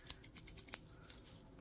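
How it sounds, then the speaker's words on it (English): Close, crisp metal scissors snip and click in a quick run of about six sharp cuts during an ASMR roleplay, then quieter handling rustle, no talking. "look at the scissors, look at the scissors, look at the scissors"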